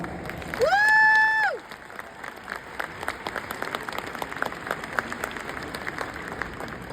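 An audience at a Baptist Health Nursing College and Allied Health commencement applauds steadily for several seconds to welcome the speaker, with a brief sustained tonal note sounding at the very start.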